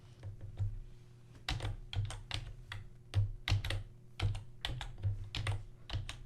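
Typing on a computer keyboard during game coding work, a near sequence of irregular key clicks and taps in short bursts over a quiet background, with no talk.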